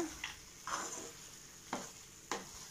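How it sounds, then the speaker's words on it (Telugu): A spoon stirs a thick sweet mixture with dry fruits and cardamom in a pan, giving four separate scraping strokes against a faint sizzle, with no voices. "దాన్ని బాగా మిక్స్ చేసి కట్ చేసి ఉంచుకున్న డ్రై ఫ్రూట్స్ వేసాను అలాగే ఇలాచీ కూడా"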